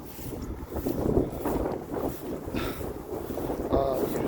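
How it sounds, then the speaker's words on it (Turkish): Gusty wind buffets the microphone in uneven rushes, rising and falling throughout with a few faint background sounds. "rüzgar var burada."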